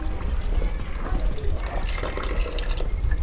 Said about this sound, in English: Here in town, they have their own thermal spout.